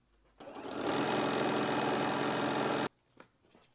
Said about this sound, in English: we're going to sew 1/4 inch all the way down without leaving an opening